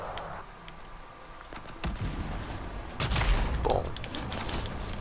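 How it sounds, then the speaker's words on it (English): Cannon fire booms in the video game Anthem, with sharp repeated blasts and bursts of gunfire over a dense, continuous battle din. "there's a couple cannons, be careful"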